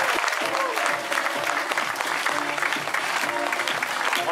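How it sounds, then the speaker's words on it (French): Loud, continuous applause from a crowd at the finish of the second stage of the Tour de Bretagne Féminin 2014 women's cycling race in Radenac, with a voice talking over the clapping. "de nouvelles applaudissements et ovations."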